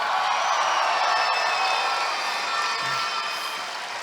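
Crowd at a Premier League men's football grand final between Mt Gambier and Forestville, a sustained distant wash of cheering and shouting that stays level and then eases slightly toward the end.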